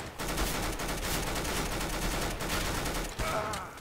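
Counter-Strike: Global Offensive gunfire on the Coast map, a dense rapid burst of automatic shots filling the clip, loud and continuous.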